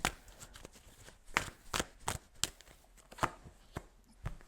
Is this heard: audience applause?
no